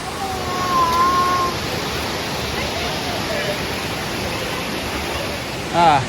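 Waterfalls and a creek in a small Ozarks canyon make a constant rushing wash of falling water, steady and fairly loud, with a faint whistle-like tone near the start.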